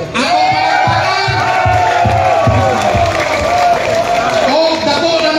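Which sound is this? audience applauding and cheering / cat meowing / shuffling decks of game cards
audience applauding and cheering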